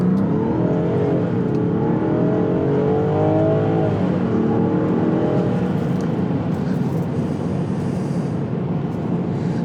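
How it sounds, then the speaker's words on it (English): A 2024 Land Rover Defender accelerates in normal mode on dry pavement, its engine note rising steadily with audible gear changes, loud and continuous from inside the cabin with no voices. "I'm going to accelerate normal mode so you can see what it sounds like"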